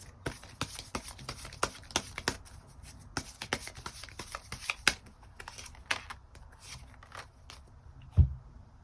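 Tarot cards shuffled close by for a reading, a run of crisp papery slaps and riffles in an uneven rhythm, ending with a heavier tap as the deck settles.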